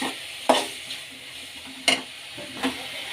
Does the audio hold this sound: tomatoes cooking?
yes